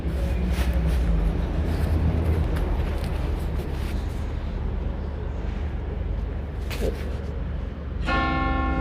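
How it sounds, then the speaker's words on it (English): Church bells ringing outdoors in London at St Pancras, a steady wash of pealing under heavy wind and street noise, with a brief voice near the end. "oh, I can hear the bells"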